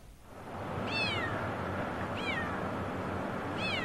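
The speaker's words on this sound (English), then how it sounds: "we could hear this poor little kitten crying" A small kitten stranded high above a trail in west central Spokane gives three high, plaintive meows, spaced about a second and a half apart, over a steady outdoor hiss.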